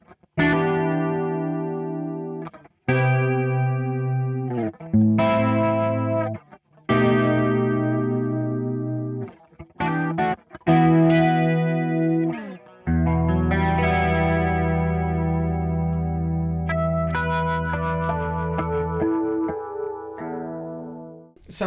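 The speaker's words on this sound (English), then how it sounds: "it's a great sounding chorus pedal" Electric guitar through a Valeton CH-10 analog chorus pedal, straight into the amp with no reverb: shimmering strummed chords and single notes ringing out, clean and sustained, played alone in a steady phrase.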